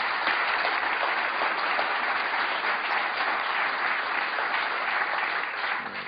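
Sustained applause from legislators filling a House chamber, steady and dense throughout with no talk over it.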